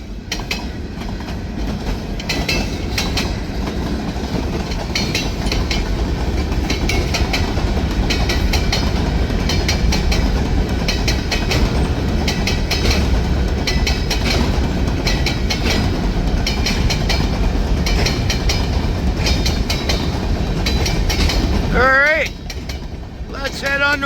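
An EMD SD9 diesel locomotive rumbles past close by with its train in near 100°F heat, wheels clicking over rail joints in a steady clatter, with a brief squeal near the end.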